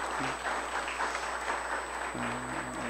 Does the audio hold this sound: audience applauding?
yes